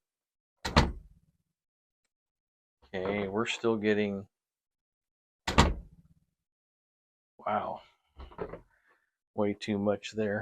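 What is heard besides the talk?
door into the room, turntable isolation test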